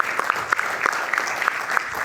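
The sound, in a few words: studio audience applause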